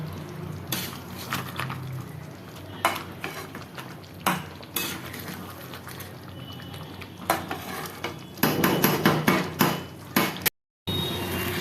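Potatoes for Bengali aloo dum are stirred and sautéed in a pan: repeated sharp scrapes and knocks of a spoon against the metal over a steady low sizzle, with a busier flurry of clatter near the end.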